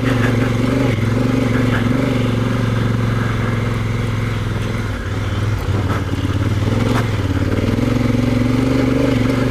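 A Honda Africa Twin motorcycle rides onto a dirt bike path off-road, its engine holding a steady, loud mid-pitched drone with light clatter throughout, close to the rider and with no talking.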